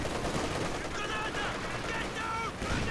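Rapid gunfire from machine guns in the WWII strategy game Company of Heroes 2, a dense continuous crackle of battle noise with faint voice-like tones over it.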